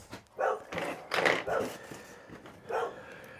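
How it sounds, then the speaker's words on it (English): A dog barks several times in short, irregular bursts, a little distant, against a low background hum. "Now my dog's barking."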